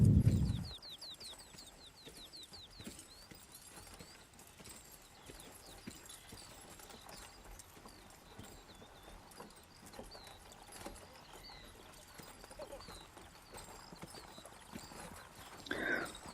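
Horse hooves clip-clop at a steady trotting rhythm as horses pull a cart, moderately close, with birds chirping faintly in the background and a short loud noise at the start.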